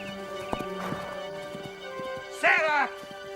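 A horse whinnies loudly near the end, with faint hoof clops and people talking over steady background music.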